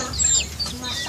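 Small chickens on a farm cluck softly in short, close calls over a quiet rural background.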